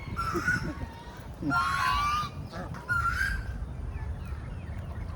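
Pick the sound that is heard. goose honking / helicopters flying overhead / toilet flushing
goose honking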